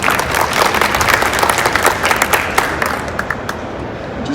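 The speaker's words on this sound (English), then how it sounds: "Can we have a round of applause for Jeremy?" An audience in a presentation room breaks into sustained applause, dense clapping that stays loud and then thins slightly toward the end.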